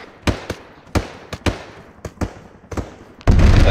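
Sharp, loud single gunshots from the military game Arma 3 during an operation in Africa, about a dozen irregular cracks spaced across a few seconds, ending in a sudden dense burst of noise.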